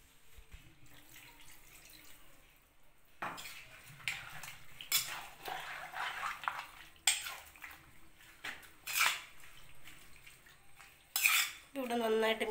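A spoon scrapes and clinks against a dish while salt and the rinse water from a mixer jar are stirred together in a home kitchen, giving irregular close metallic knocks and sloshing with a brief higher ringing scrape near the end.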